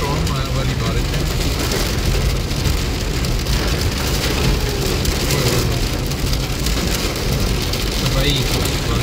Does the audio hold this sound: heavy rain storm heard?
yes